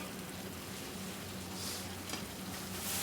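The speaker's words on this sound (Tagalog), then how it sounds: "halo-haloin na natin ito. Marami na, puno ng ating kawali." Food sizzling and hissing in a full frying pan (kawali) while it is stirred, a steady close crackle with faint scraping, no talk over it.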